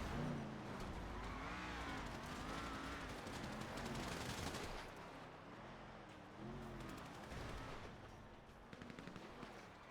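Vehicles roaring in a video game match, with a steady engine drone that rises and falls in pitch, mixed with continuous rapid gunfire crackle throughout.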